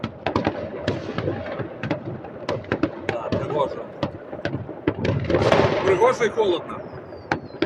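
New Year fireworks burst outdoors along a city avenue in Łódź, Poland, a rapid irregular string of sharp bangs and thumps at a moderate distance, with people chatting nearby throughout.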